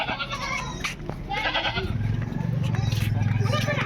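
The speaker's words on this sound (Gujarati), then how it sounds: "એ બકરી બેન આવી છે, બકરી બેન." A goat bleats several times in a village lane near a Chamunda Mata temple, close and clear, mixed with people talking over it.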